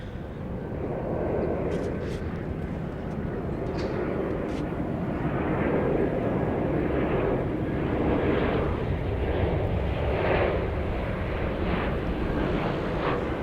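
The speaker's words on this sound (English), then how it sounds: "We've got a Southwest arrival from Orlando, flight 9773." A Southwest airliner arriving from Orlando lands at Dallas Love Field with spoilers up and thrust reversers deployed, a loud, sustained engine roar with wind rush that holds steady and surges in waves throughout.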